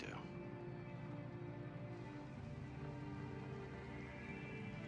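Pouring rain in Detroit: Become Human, a steady faint hiss of falling water running the whole time, with voices talking quietly over it.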